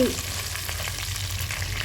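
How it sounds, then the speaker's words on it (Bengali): Potatoes fry in oil in a pan, a continuous loud crackling sizzle up close with faint stirring underneath, steady throughout. "একই তেলে আলুগুলো একটু ভেজে নিচ্ছি"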